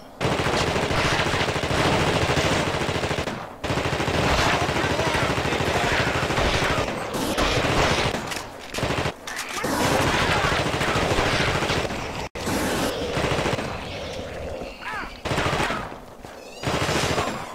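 Sustained machine gun fire in The Thing PC video game, loud, dense and nearly continuous bursts over many seconds with a few brief gaps, heavy and close.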